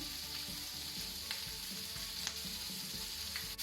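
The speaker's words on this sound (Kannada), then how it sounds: "ಇದರ ಜೊತೆಗೆ ನಾವು ಉಪ್ಪು ಸೇರಿಸಿಕೊಳ್ಳುವ, ಆಗ ಈರುಳ್ಳಿ ಬೇಗ ಫ್ರೈ ಆಗ್ತದೆ." Onions frying with salt in a pan over medium flame for squid sukka, a steady close sizzle with occasional stirring scrapes throughout, no voices.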